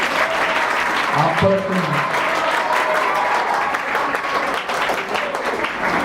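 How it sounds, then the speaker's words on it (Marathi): An audience claps loudly at a high school foundation day function in Kurla, Mumbai. Sustained applause fills the hall, and a voice speaks over it. "तर जोरदार टाळ्या वाजवा"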